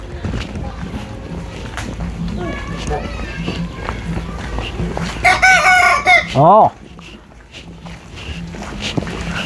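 A rooster crows loudly near the middle, a rising then falling call over a few seconds, with background clucking and fowl sounds, while people talk throughout.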